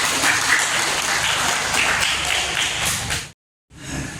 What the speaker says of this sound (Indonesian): Mari kita beri aplaus terlebih dahulu untuk teman kita.